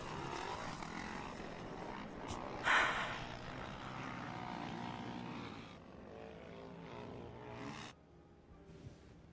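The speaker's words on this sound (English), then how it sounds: "Is that a Predator or a Reaper?" A U.S. Predator drone flies in the video game WarGames, its steady propeller-engine drone heard up close and continuous, with a brief louder swell near the middle and a tapering hum at the end.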